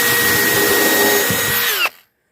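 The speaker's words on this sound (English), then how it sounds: "now we'll go back and we'll pre-drill some holes" Handheld power drill pre-drilling holes on a homemade rabbit tractor with a broken bit, a loud steady whine that slows and cuts off abruptly near the end.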